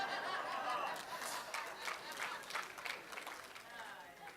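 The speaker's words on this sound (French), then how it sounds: "Vous applaudissez le seul commentaire qui ne vient pas de moi." A live audience applauding, a dense patter of clapping mixed with chatter and some laughter, fairly faint and fading a little toward the end.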